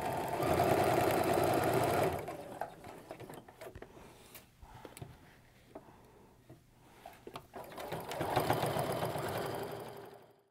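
Sewing machine stitching sashing strips onto pinned t-shirt quilt blocks, a close whirring run for about two seconds, then quieter clicks and handling, then another steady run near the end.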